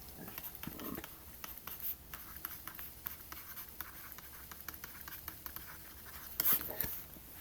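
Pen or pencil scratching across paper, a quiet run of short strokes and taps with a brief louder scrape near the end, heard alone with no voices.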